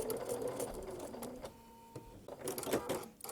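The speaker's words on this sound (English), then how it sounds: "And I'm going to stitch to the edge and then back stitch." A sewing machine stitches fabric for a sunflower table topper, a quiet close rapid mechanical whir that pauses briefly, then runs again as it back stitches.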